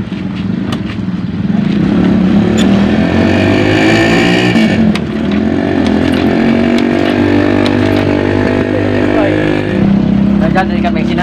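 A stalled motorcycle engine is coaxed to life, its loud, close motor churning and revving unevenly for several seconds before settling, while people talk over the noise.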